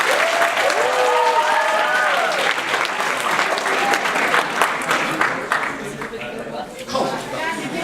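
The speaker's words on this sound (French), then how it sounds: "Je pense qu'on pourrait les applaudir très fort d'avoir fait le déplacement." Audience applause at a cosplay convention solo contest, a loud burst of clapping from a crowd with some cheering and chatter mixed in, gradually thinning toward the end.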